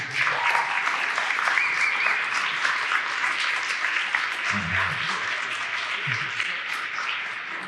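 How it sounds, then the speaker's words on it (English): An audience at a film industry discussion gives a steady round of applause, thick continuous clapping with a few low voices briefly audible partway through. "I'll do one more round of applause for CJ."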